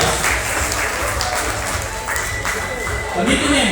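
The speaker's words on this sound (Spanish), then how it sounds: "Los aplausos pertinentes, gracias." Applause from the audience at a school book-reading contest award ceremony, a continuous wash of clapping with a voice and some tonal sounds mixed in near the end.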